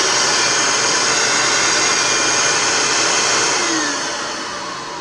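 Vacuum cleaner repurposed as a forge blower, blasting air in a loud, steady, close whoosh-whine that holds constant, then drops a little in level near the end, with no talk.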